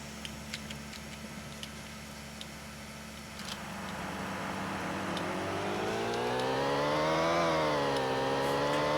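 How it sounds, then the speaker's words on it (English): Car engine in a racing video game played on a Compaq Deskpro 2000, revving up with a rising whine that climbs in pitch, dips briefly, then climbs again, growing louder after a few quiet clicks at the start. "listen to those nice engine noises"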